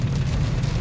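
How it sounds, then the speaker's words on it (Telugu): Heavy downpour during a summer rainstorm in Khammam, a steady, dense rumbling wash of rain that stays loud and constant through the whole moment, with no voices. "భయంకరంగా పడుతుంది వర్షం"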